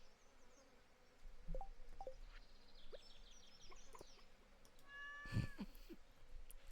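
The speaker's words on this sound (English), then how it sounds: "I hit my cat. I'm so sorry." A cat meowing in the farming video game Stardew Valley, a few short mews scattered over quiet game background tones, with one louder bright meow near the end.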